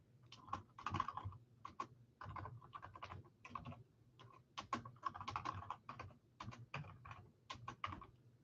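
Faint bursts of typing on a computer keyboard, clusters of quick key clicks separated by short pauses, close and quiet with no talk.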